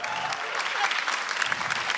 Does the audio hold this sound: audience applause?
yes